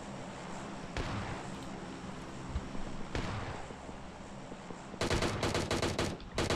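Gunfire in PUBG Mobile: a few isolated shots crack out early, then a rapid burst of automatic fire rattles at the end, fairly close and loud, with no talk over it.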